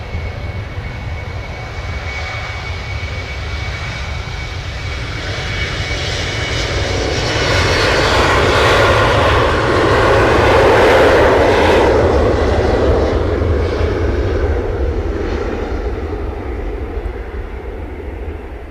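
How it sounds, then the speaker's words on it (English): Jet engines of an EasyJet airliner roar at Manchester Airport. The loud, broad rumble swells to a peak in the middle and then eases slightly, continuous across the whole stretch with no voices. "And so I think this EasyJet will go shortly"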